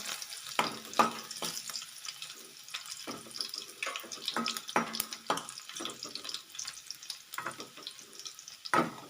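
Crushed garlic frying in hot oil gives a steady, bright crackle with scattered sharp pops and spits. It continues close and fairly loud throughout, with no talking.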